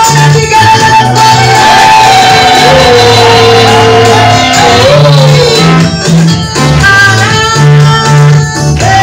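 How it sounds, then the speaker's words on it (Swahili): A church congregation at a women's service cheers and ululates with loud, sustained, overlapping shouts and trilling voices. Music plays throughout underneath. "shangwe na vigelegele kwa"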